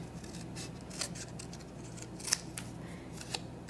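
Scissors snipping through card while making a flower pot shape, a few faint crisp cuts spaced irregularly over a quiet background.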